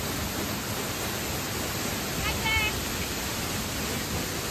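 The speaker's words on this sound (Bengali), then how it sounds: "আর এত স্পিডে উপর থেকে জল পড়ছে যে ওখান থেকে জল আমাদের গায়ে এসে ভিজিয়ে দিচ্ছে" Kanchenjunga Falls near Pelling, water plunging at speed from a height, a dense, steady roar of rushing water filling the whole clip from close by, with a faint voice surfacing briefly in the middle.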